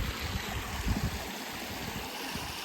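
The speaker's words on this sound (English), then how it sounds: "is the confluence of this stream here that comes down from Hearncluff and this stream here that comes down from" Mountain stream at the confluence of two upland streams near Alport Head, flowing as a steady broadband rush and gurgle of water, close and continuous, without any voices.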